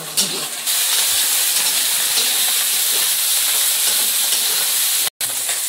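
A splash of water hits cooking masala in a hot pan for a meat curry, bursting into a loud, sustained steamy hiss that fills the clip and cuts out briefly near the end.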